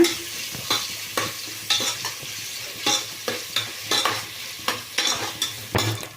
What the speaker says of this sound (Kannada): ಈರುಳ್ಳಿ ಎಲ್ಲ ಕಂದು ಬಣ್ಣ ಬರಲಿ ಚೆಂದಾಗಿ ಅಲ್ಲಿವರೆಗೂ ಫ್ರೈ ಮಾಡ್ಕೊಳ್ಳೋಣ